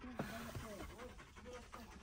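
A Kazakh Tazy hound panting close by in quick, steady breaths, with faint whimpers and people talking quietly over it.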